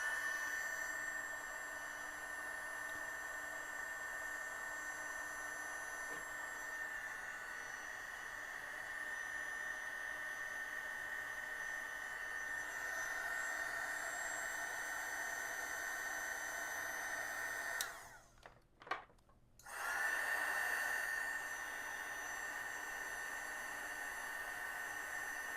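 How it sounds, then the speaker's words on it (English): A heat gun blows a loud, steady hiss as it shrinks heat-shrink tubing on refurbished Atari ST wiring, cutting out briefly near the end before starting up again. "now we just need to heat shrink everything and hook it up"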